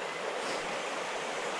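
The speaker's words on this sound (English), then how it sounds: "Lots swifter water." Swift river water rushes steadily past the rocks on a trout stream, a continuous broad roar, close and even, with no voices.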